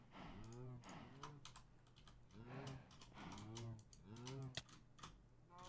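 Cows in Minecraft's Agrarian Skies 2 modpack let out about five drawn-out, fairly close moos at a steady pace, with the clicking of a computer keyboard running underneath.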